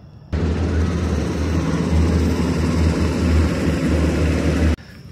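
Military helicopters pass low over the Capitol at night with a loud, steady rotor drone and deep engine rumble, holding constant for several seconds before cutting off abruptly.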